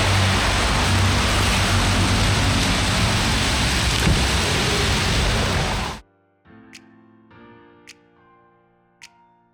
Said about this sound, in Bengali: তো প্রচণ্ড বৃষ্টি হচ্ছে সারাক্ষণ